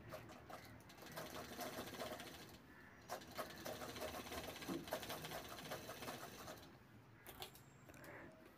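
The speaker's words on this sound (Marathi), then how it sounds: "याला दुमडून परत शिवून घ्यायचं आहे" A sewing machine stitches a folded seam on a handmade handbag in quick rhythmic runs of whirring needle strokes, with short pauses between runs, close and moderately loud.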